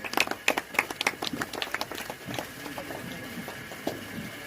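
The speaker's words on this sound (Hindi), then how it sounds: "आप लोग ताली बजा दीजिए" An audience claps at the inauguration of a newspaper's regional office in Lakhimpur, with quick, uneven handclaps that are brisk at first and then thin out into scattered claps over a murmuring room.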